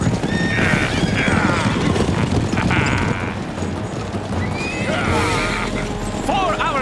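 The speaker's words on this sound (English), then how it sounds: "What beautiful horses!" Cartoon racehorses at a gladiator-era contest whinny repeatedly over rapid galloping hooves, loud and close, amid a dense, noisy race background.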